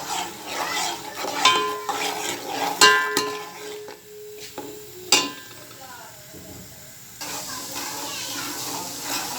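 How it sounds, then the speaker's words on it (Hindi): Garlic frying in hot ghee in a large pot for Lahori beef paya, a light sizzle under metallic clanks and scrapes of a spoon, with background voices and child-like chatter. "अभी लहसुन को हम भून रहे हैं।"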